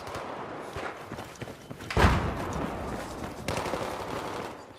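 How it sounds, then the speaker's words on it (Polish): Gunfire in the Battlefield 4 video game comes as quick muffled bursts and thuds, with one loud close shot near the middle over a rumbling battle background. "Strzały, strzały, strzały."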